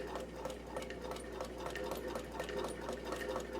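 A Singer 115 sewing machine with a new needle runs steadily, its rapid, even rhythmic clatter close and moderately loud over a low mechanical hum.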